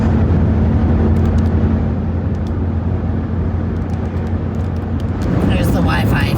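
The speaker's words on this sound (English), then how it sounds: "I think this is car number 4 in almost 50 kilometers." A car passes on a quiet road near Burgeo, Newfoundland, as a steady close rumble of engine and tyres that swells toward the end, with a person talking over it.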